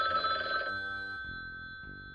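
A phone's Google Assistant activation tone: a short bright electronic chime with a sustained ringing pitch that fades out, close and clear with no talk over it.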